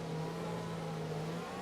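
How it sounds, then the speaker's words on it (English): A Formula 1 race car in a video game, heard as a steady mid-pitched engine whine with a sustained tone while overtaking on the inside in the China race. "now Kimi Raikkonen is going very slowly, so I just take the opportunity and go down the inside up into P16 and right back up on the back of Sergio Pere"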